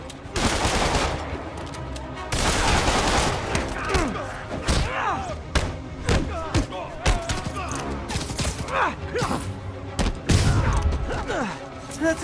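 Gunfire rattles in the PS4 video game Spider-Man: dense bursts of rapid shots and heavy impacts stretch across the whole stretch, mixed with thuds and mechanical clanks, while voices shout over the battle.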